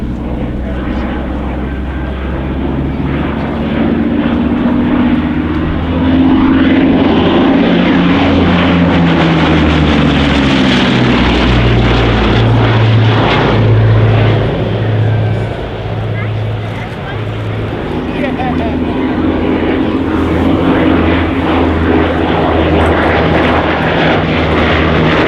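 A Bristol Blenheim light bomber, a 1930s twin-engine aircraft, drones steadily overhead at an air display, its engine roar swelling and fading over about 25 seconds beneath continuous commentary.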